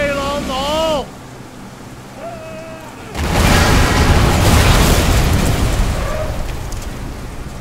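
An explosion in the Sleeping Dogs Definitive Edition on PC, a loud broad boom that bursts in after a few seconds and rumbles on as a sustained roar, preceded by quieter game sounds with tonal voice-like calls.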